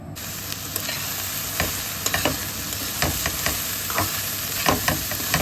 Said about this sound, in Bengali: সব মশলা দিয়ে মাংস যেভাবে রান্না করি ঠিক সেমভাবেই এই সয়াটা রান্না করছি